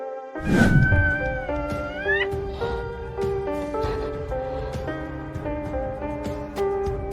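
A mother cat fighting off a python lets out loud, drawn-out yowls and harsh hissing growls, close and continuous, with rising and falling wails.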